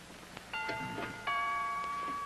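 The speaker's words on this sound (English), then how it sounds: "would you mind answering the doorbell" A household doorbell chimes in a sitcom living room, sounding two clear, ringing tones in quick succession that sustain and fade, with no voices over them.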